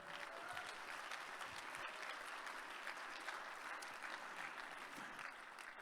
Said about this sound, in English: round of applause for you one more time